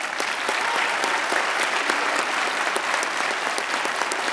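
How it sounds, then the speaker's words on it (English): A crowd gives sustained applause at a police academy graduation ceremony, many hands clapping steadily and densely for several seconds at an even level. "How about one more hand of applause for our new officers?"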